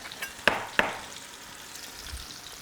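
Steak fries in a pan with a faint, steady background sizzle, broken early by two sharp clicks a fraction of a second apart, then a soft continuous hiss.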